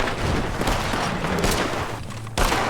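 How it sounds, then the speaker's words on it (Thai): Gunfire crackles in Red Dead Redemption 2, a dense, loud volley of overlapping shots that rumbles almost continuously, with a fresh burst near the end. "ใช้ปืนยิงมันได้เลยหรือเปล่า ยิงได้เลย"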